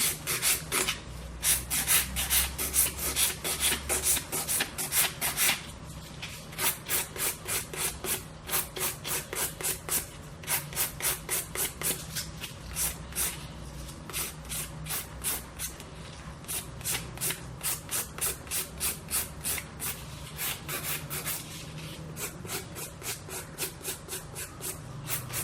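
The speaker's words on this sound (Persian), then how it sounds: "این دیگه دوباره میره برای دورگیری و سوهان کشی برقی" Electric nail file shaping and refining acrylic nails during a nail extension session, a rapid series of short, regular rasping strokes repeating closely for a long stretch.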